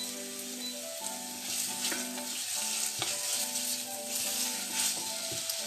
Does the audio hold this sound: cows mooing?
no